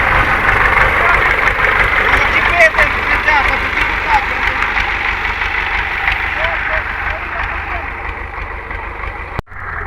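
A tractor engine idles steadily with a low rumbling drone, close by, with faint clanks and small knocks layered on top.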